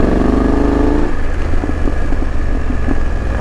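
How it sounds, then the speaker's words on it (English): A BMW F750 GS motorcycle engine runs in enduro mode on a Colombian coffee region trail, a steady close mid-pitched drone with slight throttle swells and no talk. "straight away you can hear more aggression through the engine, into the tyres, immediate response"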